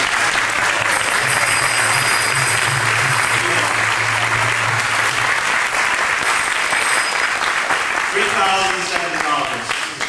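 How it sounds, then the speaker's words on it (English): Loud, sustained audience applause at a lecture in San Diego fills the hall for the whole stretch, dense clapping with voices faintly mixed in before it tapers at the end. "give a warm round of applause to Swami Prabhu from Los Angeles."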